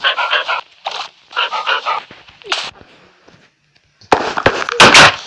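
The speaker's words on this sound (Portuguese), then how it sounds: "Os meus cachorros." Two dogs at home bark in loud, close bursts, a quick cluster of barks, a pause with softer sounds, then another sharp volley near the end.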